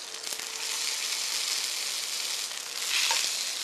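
Tuna searing in a hot pan in a restaurant kitchen gives a loud, continuous close sizzle that swells briefly near the end, with a faint clink and no talking.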